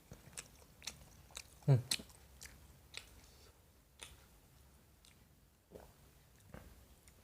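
Fried chicken with serundeng being bitten and chewed up close, one crisp crunchy bite followed by soft, irregular chewing clicks and squishes at a low level.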